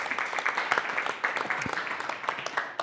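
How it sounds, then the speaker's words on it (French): Audience applause for the mayor at a public gathering in Champniers: a brief spell of dense, steady clapping from a crowd, moderately loud and without a clear beginning or end. "On peut vous applaudir."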